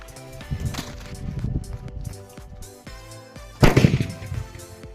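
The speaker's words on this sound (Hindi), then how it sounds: "हमने हमारे सुतली बम को रख दिया है और अब हम इसको देखने वाले किस प्रकार से ये जो जलता है" A sutli bomb, a twine-wrapped firecracker, hisses and crackles as its fuse burns, then one sharp, loud blast cuts through near the end, over a steady tonal backdrop that runs throughout.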